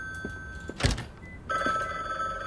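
An old-style telephone rings with a steady electronic tone in a dark book-themed adventure game, with one ring, a pause, then ringing again louder after a brief thump.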